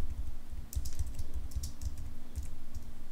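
Rapid clicking of keys on a computer keyboard while entering a WordPress site title during setup, a steady run of close, light taps over a constant low hum, with no voices.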